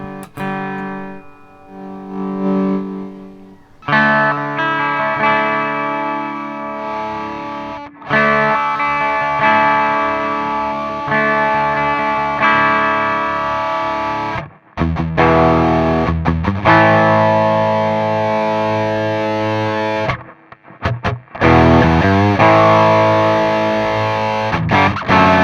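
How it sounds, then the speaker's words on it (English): Heavily distorted electric guitar run through a Two notes Le Lead preamp, loud sustained chords and riffs with short pauses between phrases. "You have distorted sound"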